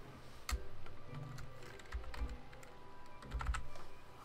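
Fingers typing on a computer keyboard, quiet close clicks arriving in short uneven bursts separated by brief pauses.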